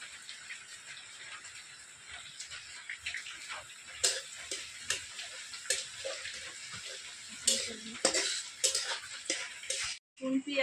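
Chopped onions sizzle in hot oil in a pan with cumin and garlic, a steady hiss broken by sharp clicks and scrapes of stirring, with a voice talking over it.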